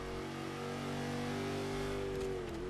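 A tuned Chevy Nova C-class race car with East Coast Tuning upgrades accelerates hard on the Indianapolis GP circuit in Forza 5, its engine droning loudly and rising steadily in pitch with no talk.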